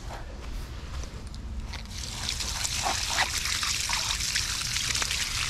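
Water from a river runs by gravity through a channel into an autumn vegetable garden in Latvia. It gives a steady trickling, babbling flow that rises a little after the first two seconds, with faint rustling and no talk.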